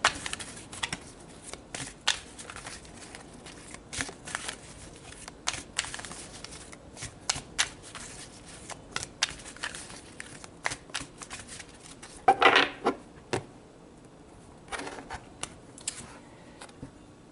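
Tarot cards being shuffled by hand in repeated riffling bursts, crisp close flutters and taps scattered across the clip with a louder flurry near the end.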